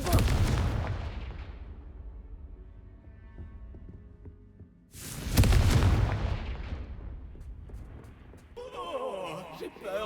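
A Confringo fire-blast spell explodes in Hogwarts Legacy with two loud booming blasts about five seconds apart, each decaying into a rumbling tail, followed by a swirling magical whoosh at the end.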